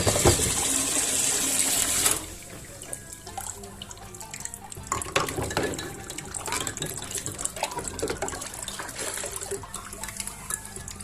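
Tap water pours loudly into a kitchen sink, then drops to a lighter running stream with clinks and rustles of washing underneath, close and steady with no talking.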